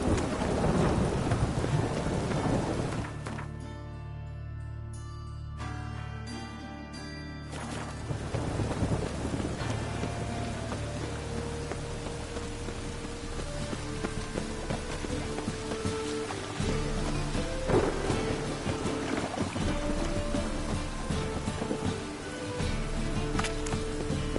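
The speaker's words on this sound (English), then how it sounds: "Rain was coming." Thunderstorm in the video game The Witcher 3: heavy, steady rain with rolling, rumbling thunder, a loud crack near the start, and low tonal music underneath.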